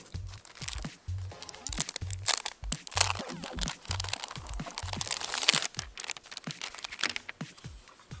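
Crinkling and rustling of packaging as a Logitech K380 Bluetooth keyboard is unboxed up close, irregular bursts of crunching plastic and paper with no talking.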